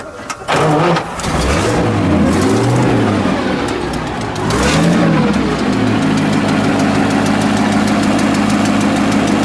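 A 1937 Bugatti Type 57 Roadster race car engine cranks and catches with a loud burst, revs rising and falling a few times, then settles into a rough, rumbling idle close by.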